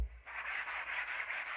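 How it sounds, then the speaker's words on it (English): Steady rhythmic rasping of sandpaper rubbed back and forth on a wooden axe handle, close and continuous, with no talking. "So let's just finish sanding this one down"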